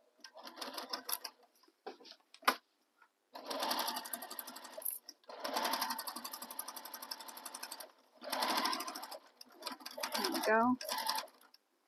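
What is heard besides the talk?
sewing machine sewing down tote bag length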